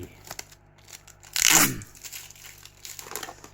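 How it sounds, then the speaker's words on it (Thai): An Odenya trading card foil pack is torn open in one quick, loud rip that crinkles through the middle of a quiet room, with faint rustling of the wrapper before and after. "เพราะมันฉีกง่าย"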